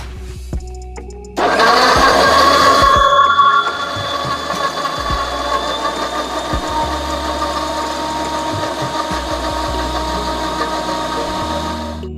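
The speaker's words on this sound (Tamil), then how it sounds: "இப்போ இது எல்லாத்தையுமே நல்லா கிரைண்ட் பண்ண வேண்டியதுதான்." Mixer grinder blending figs into juice, starting with a sharp jump to a loud, steady motor whine that runs continuously and close, easing slightly after a few seconds.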